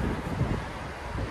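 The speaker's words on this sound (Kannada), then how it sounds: "I don't like wind" Wind blows outdoors on a walk, buffeting the microphone as a steady, rough rumble that stays loud and close throughout, with no voices on top.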